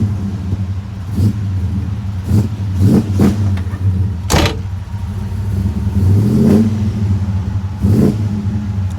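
A 1969 Chevelle SS 396 V8 revs repeatedly, its deep rumbling idle broken by sharp exhaust pops and crackles in a steady sequence of bursts, loud and close with no talking.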